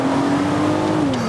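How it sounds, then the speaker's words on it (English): A 2021 Rolls-Royce Dawn convertible's V12 engine accelerating under full throttle, a steady, rising growl from the exhaust that holds close and loud, then eases slightly near the end with no talking. "Oh, a sonorous tone from the V12. It actually makes a really nice growl."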